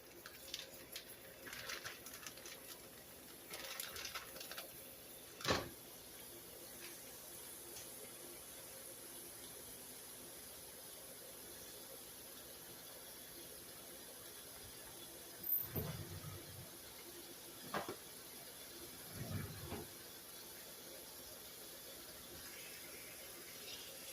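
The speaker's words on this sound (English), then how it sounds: "So I'm going to add 1 pound of hamburger to our skillet." A pound of hamburger meat sizzles in a hot skillet, a faint, steady frying hiss running throughout with a few brief louder crackles and clatters.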